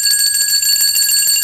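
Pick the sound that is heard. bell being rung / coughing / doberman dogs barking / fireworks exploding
bell being rung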